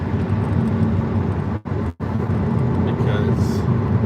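Loud interior road noise of a car driving on the freeway, a dense steady rumble and roar with two brief dropouts, continuous throughout.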